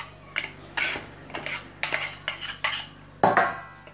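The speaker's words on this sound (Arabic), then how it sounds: "غادي نخلط دابا الكل جيدا" A spoon works through a briouat filling of peanuts in a bowl, giving several irregular clinks and scrapes against the bowl, close and fairly quiet, with no talking.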